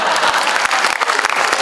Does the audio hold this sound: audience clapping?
yes